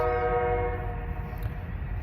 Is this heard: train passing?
yes